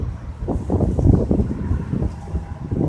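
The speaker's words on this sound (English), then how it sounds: "It's windy as hell out here." Strong wind blowing outdoors, buffeting the microphone in loud, uneven low rumbling gusts that swell and ease throughout, with no other sounds standing out.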